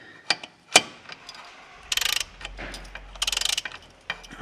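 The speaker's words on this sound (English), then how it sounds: "first we're gonna loosen the bolts" A ratchet loosening exhaust bolts on a Kawasaki Vulcan S during a Delkevic exhaust install, heard as two close bursts of rapid clicking after a few sharp knocks, with quiet gaps between.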